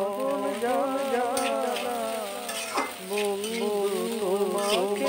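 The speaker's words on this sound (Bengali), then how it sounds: "এইভাবে আরো কিছুক্ষণ ভেজে নেব।" Eggs frying and being stirred in a pan for chira biryani give a continuous sizzle with scraping stirs, under a clearly audible melodic musical backdrop.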